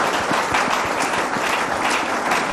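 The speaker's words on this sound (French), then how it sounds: "On peut acclamer pour le Seigneur" A church congregation applauds the Lord in a dense, steady burst of clapping, loud and close, sustained for a few seconds with faint crowd voices beneath.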